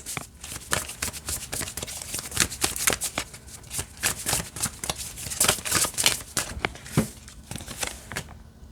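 Rapid, continuous riffling and slapping of an oracle card deck being overhand shuffled by hand, close up, with steady rhythmic bursts throughout.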